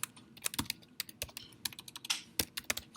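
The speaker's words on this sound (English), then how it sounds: "So if I type something," Rapid, uneven clacking of keys on a computer keyboard during a classroom programming lecture, close and clear with no talking over it.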